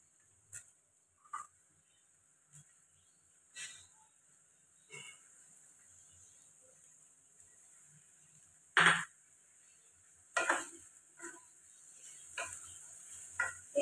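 Split peas are tipped into a hot pan and stirred, giving a few scattered scrapes and light sizzling bursts separated by quiet gaps.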